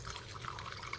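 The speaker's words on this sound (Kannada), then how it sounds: "ಇದಕ್ಕೊಂದು ಸ್ವಲ್ಪ ನೀರು ಹಾಕೊತೀನಿ." Water poured from a container onto flaxseed powder, a soft, steady trickle with faint splashing that continues for about a second and is heard close up with no talk.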